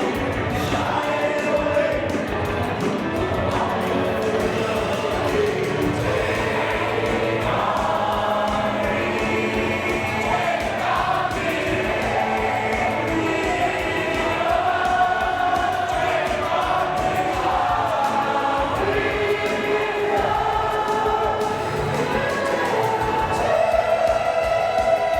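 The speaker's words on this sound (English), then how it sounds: "The crowd singing along to his entrance." A Coastal Championship Wrestling crowd at Bash at the Brew in Florida sings along to a wrestler's entrance music, a dense, steady wall of many voices blended with the music and running loud throughout.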